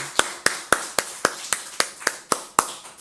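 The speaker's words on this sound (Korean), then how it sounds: "우리 하나님께 영광의 박수를 하십시다" A church congregation claps in praise during a Sunday worship service, giving a steady, evenly spaced rhythm of about ten sharp unison claps, moderately loud and close.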